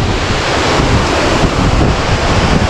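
Strong wind buffets the microphone while sea waves crash and splash nearby, a loud continuous roar of surf and gusts with no voices.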